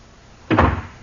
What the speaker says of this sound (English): Lewis came in and slammed the door